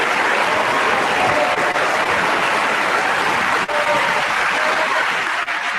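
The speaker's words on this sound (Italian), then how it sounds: "Popolo, beccati anche tu la tua razione di applausi." Canned applause effect on an Italian radio call-in show, steady dense clapping at full level throughout with no talk over it.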